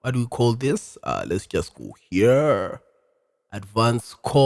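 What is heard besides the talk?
No distinct noise like a dog, phone or traffic.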